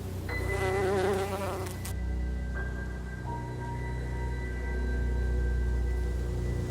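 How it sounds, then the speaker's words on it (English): A wasp buzzes beside a flower bush, its droning wingbeat steady and close, with the pitch shifting as it moves about, and no other sound alongside. "a wasp is busy searching for prey"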